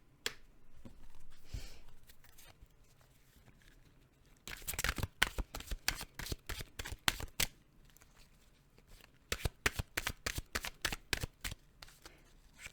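Tarot cards are shuffled by hand in bursts of rapid, crisp riffling and flicking, loud and close, with quieter pauses between the bursts.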